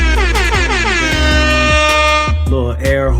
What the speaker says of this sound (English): Little air horn, you know, Jamaican clubs